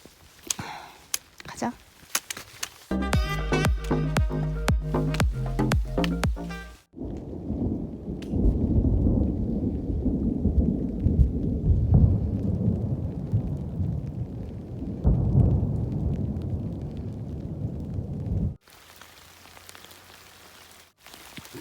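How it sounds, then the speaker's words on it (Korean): Heavy rain pours down with rolling thunder on a dark, wet hiking stretch of the Camino del Norte between Deba and Markina near a summit shelter, a dense, loud, steady downpour with deep rumbles and a few sharper sounds early on. "비가 엄청 오고 있어요."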